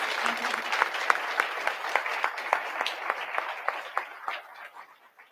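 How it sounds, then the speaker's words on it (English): An audience at a school board public session gives a round of applause for honorees, with dense, even clapping that gradually thins and fades out. "one more round of applause for our deserving honorees"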